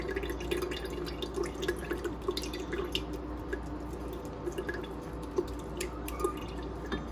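Two cups of water are poured into a blender holding green mint lemonade ingredients, a steady splashing trickle with small drips, close and moderately quiet, with no talking.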